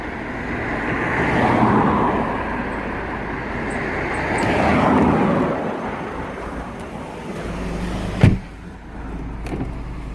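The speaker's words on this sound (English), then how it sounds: "Let's give you a quick test drive on it inside as well." Hyundai Santa Fe CDX CRDT diesel automatic seven-seater on a test drive, heard from inside as a steady engine drone and road rumble that swells and eases, with a sharp thump near the end.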